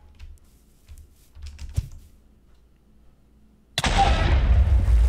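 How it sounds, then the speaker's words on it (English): A meteor impact explosion in Minecraft with the FTB Interactions modpack follows a few seconds of quiet clicks and a thud, erupting suddenly into a loud, sustained booming roar that fills the rest. "Oh my goodness, that was a big explosion."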